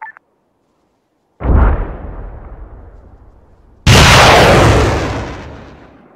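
Two heavy explosions in Donetsk, each a sudden loud broadband boom followed by a long rumbling decay, the second blast louder and closer, with near silence before the first.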